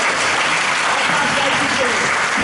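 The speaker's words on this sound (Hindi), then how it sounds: "जोरदार तालियां बजाइए पहलवानों का स्वागत कीजिए।" Dense, steady applause from a crowd welcoming wrestlers at a wrestling event fills the whole clip at a loud, even level, with faint voices mixed in.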